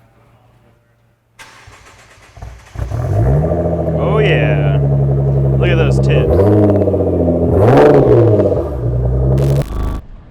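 A Nissan R35 GT-R with extreme turbo systems and a straight-pipe catback exhaust cranks to life and settles into a loud, deep idle, then gives several sharp revs that rise and fall close by while people talk over it.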